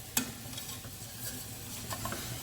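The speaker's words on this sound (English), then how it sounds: "I'm going to mix that all in together." Sofrito with tomato puree is stirred in a pan, a soft scraping and low sizzle running quietly throughout, with a couple of light utensil taps.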